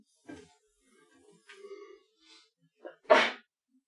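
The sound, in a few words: sneeze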